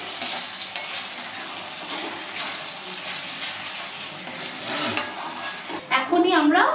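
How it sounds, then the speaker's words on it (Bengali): A spice masala paste sautés in a pan before marinated mutton goes in for black pepper mutton, a steady close sizzle with stirring scrapes and light utensil clinks, swelling louder near the end. "এই মশলাটাকে এখন ভালো মতো একটু কষাবো।"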